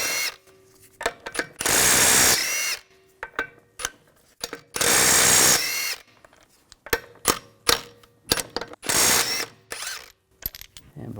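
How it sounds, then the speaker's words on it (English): A power tool with a 17mm socket spins lug bolts off the front wheel of a 2006-2010 BMW 550i. It runs in three loud ratcheting bursts, with clicks and clanks of handling between them, close up and without talk. "take the lug bolts out"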